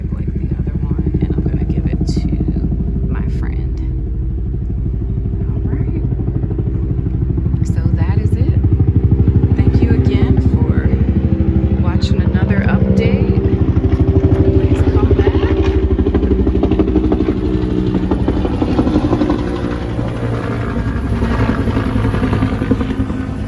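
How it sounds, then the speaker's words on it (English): A helicopter flies over a balcony container garden, a loud, sustained rumble of engine and rotor that swells toward the middle and stays strong throughout, with a voice faintly underneath. "you enjoyed that helicopter flyover."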